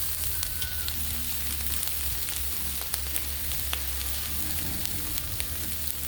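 Sausage sizzles steadily on a Blackstone griddle set to medium low, a constant close crackling hiss with a low hum beneath and scattered sharper pops throughout.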